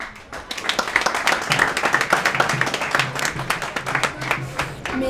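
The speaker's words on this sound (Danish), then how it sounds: "Og det kan I fandme klappe jer selv." Football fans at Østerbro Stadion clap in a dense, lively burst of applause that stays fairly close and sustained, with a voice faintly in the mix.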